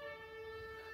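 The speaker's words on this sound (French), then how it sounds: "Excusez-moi si vous entendez une sirène" An emergency siren wails outdoors, a steady, sustained tone heard faintly at a distance for about a second, with no voices.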